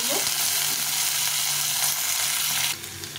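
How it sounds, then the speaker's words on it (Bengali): Small potatoes cut into long strips frying in hot oil for a vegetable dish, a loud continuous sizzle with bright crackling that holds steady before dropping to a quieter hiss at the end. "তো তেলটা গরম হয়ে গেছে, প্রথমে আলুগুলোকে ভেজে নেব"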